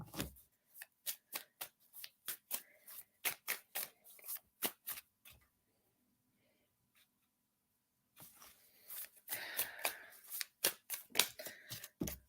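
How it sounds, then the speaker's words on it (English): Playing cards are tossed and shuffled in rapid bursts of soft slapping flicks, close and fairly quiet, pausing for a few seconds of near silence before another flurry of riffling. "I'm throwing cards everywhere."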